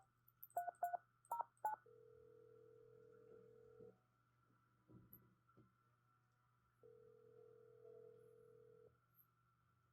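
Phone keypad tones dialing a number in a Nancy Drew computer game, a quick run of short beeps followed by long steady tones, clean and electronic with a low hum beneath.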